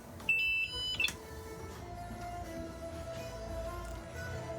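Electronic alarms on a Nordhavn boat with wing engine trouble give a few sharp, high beeps near the start, then stop, leaving a low engine-room hum.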